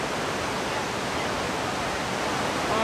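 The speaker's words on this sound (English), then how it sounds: "the falls are incredibly beautiful, but also very loud" Gooseberry Falls middle falls roars loudly, swollen after heavy rain, making a dense, steady broadband rush of water with no pauses and no voices.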